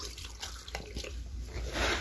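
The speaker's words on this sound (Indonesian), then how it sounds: "coba kita siram dengan air ya coba kita siram" Water splashes and runs over a surface nearby, uneven at first and then gushing more strongly toward the end.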